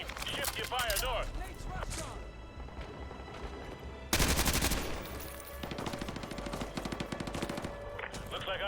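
Gunfire in Call of Duty: Modern Warfare 2 Remastered, dense automatic bursts and rattling machine-gun fire with a sudden loud volley midway, continuing under battlefield radio chatter and voices.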